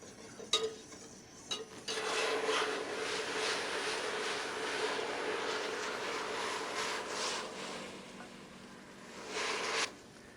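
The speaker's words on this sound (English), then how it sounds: "Now that I have this, I'm gonna deglaze it with my rum." Rum poured into a hot pan holding a caramel with vanilla seeds and sliced ginger, then stirred: a few knocks, then a sustained hiss and scraping stir that fades out with a final clatter.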